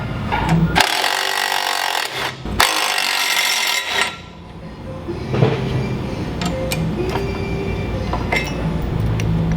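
Stuck lock nuts are worked off the deck plate of a Gravely Pro-Stance mower with a power tool, loud bursts of harsh whirring at the start followed by lighter metallic clinks and rattles up close.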